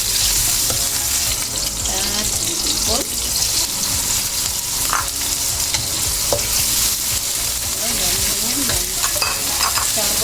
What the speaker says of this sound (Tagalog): lagyan natin ng mantika. Natin itong sibuyas. Gisa lang natin yan guys.